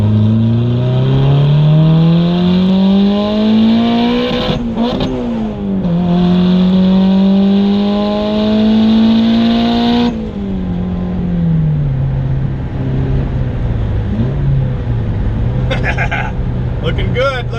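A turbocharged Honda Prelude with an F20B engine pulls hard in second gear, its loud engine note climbing steadily from inside the cabin, briefly dipping at a shift and then rising again, with someone talking over it.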